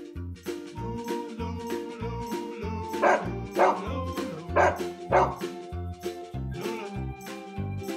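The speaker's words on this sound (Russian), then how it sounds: "Собака." A farm dog in a children's cartoon barks in a short cluster of sharp yips and woofs midway, set against steady, upbeat background music.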